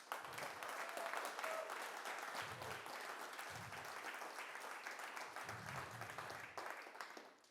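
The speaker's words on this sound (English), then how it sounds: "Don't get tired of clapping" Audience applause at a commercial security technology showcase, steady crowd clapping filling the whole stretch with no speech over it.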